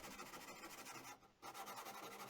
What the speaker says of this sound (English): only a short sampling of the hand sanding I had to do on the fillets I laid in yesterday